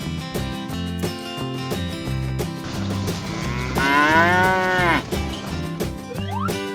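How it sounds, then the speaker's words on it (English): A cow gives a single long, loud moo, rising and then falling, set against continuous upbeat children's music. "Cow."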